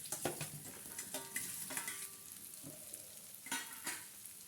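Fried chicken pieces being stirred into sizzling masala in a pan, with steady frying hiss and repeated scraping stirs of a spoon, close and fairly quiet, no talking.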